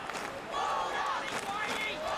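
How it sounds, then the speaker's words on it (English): Broad roar of a large stadium crowd at an AFL match between Carlton and the Western Bulldogs in Melbourne's Docklands Dome, swelling in the middle, with a commentator talking over it. "Good crowd in here at the Dome."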